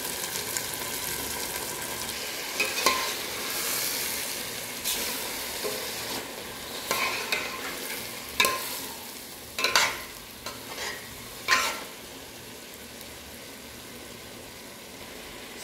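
Chicken pieces sizzle and fry in a pan with coriander, under a steady hiss, while a utensil stirs and scrapes several times, louder toward the end.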